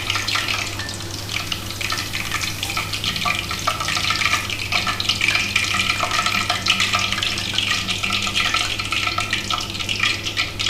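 Chicken pieces fry in hot oil for chicken chilli in a home kitchen, giving a loud, continuous sizzle with occasional stirring scrapes and no talking.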